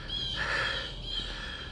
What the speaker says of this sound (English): you can hear all the birds going nuts here